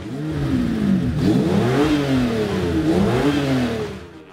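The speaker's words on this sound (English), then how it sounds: "You know, you have that V12 sound." A V12 truck engine revs up and down in repeated rising and falling sweeps, loud and close, its exhaust droning with a deep, layered tone and no voices.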